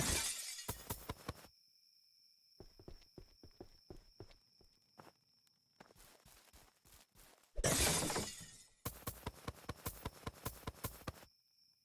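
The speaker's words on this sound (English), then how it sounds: "for just smashing a pot" Pots smash one after another in a video game, sharp crashing shatters in bursts separated by quieter stretches of light tapping footsteps, with several loud breaks clustered near the end.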